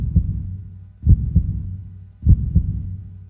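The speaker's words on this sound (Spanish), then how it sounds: "solo se podían sentir los latidos del corazón del valiente joven" A heartbeat sound effect thumps in slow, regular double beats, three lub-dub pairs heard alone and up close, with low muffled thuds.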